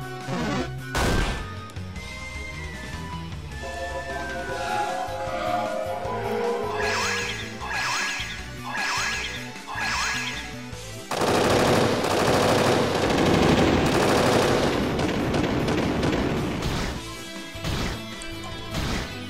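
The Bullet Hell multi-hit gunfire ability in a Final Fantasy video game, with a rapid burst of shots, several distinct bangs and a dense crashing volley, loud and up close with game music underneath.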